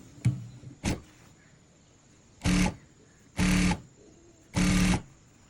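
A domestic sewing machine runs in three short bursts, stitching a folded quarter-inch hem around a gown, with a couple of brief clicks first and quiet gaps between each run.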